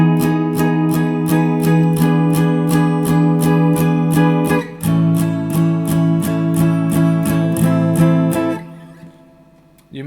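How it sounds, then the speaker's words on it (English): Electric guitar played through a Boss CH-1 Super Chorus pedal, a fast run of bright, evenly spaced strums with a shimmering wash. The chord shifts partway through and the strumming ends in a fading ring. "But with the chorus pedal it sounds like this."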